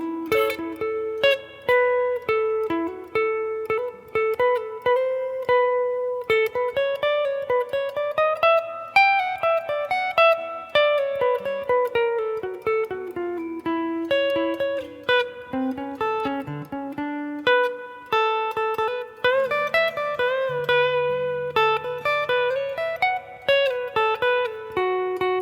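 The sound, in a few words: guitar playing first 8 bars of a solo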